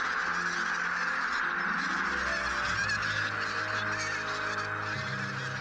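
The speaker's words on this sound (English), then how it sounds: "large flocks of wild geese, numbering in the thousands, ascend into the sky and fly away in a big commotion to their feeding grounds." Thousands of wild geese, mostly bean geese with some white-fronted geese, rise from the marshes together, a dense, continuous wall of honking and cackling that stays loud and steady throughout.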